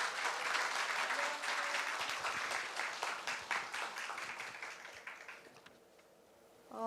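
Audience at a Korean special education society academic conference applauding, dense clapping that starts full and loud, thins out and fades to near silence before a voice begins at the very end.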